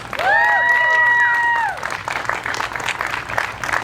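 At an outdoor Libertarian bus tour rally in Nicollet Commons, Burnsville, Minnesota, a crowd applauds the volunteers. A loud, sliding whoop or whistle opens it, then lively clapping and scattered cheers continue at a lower level.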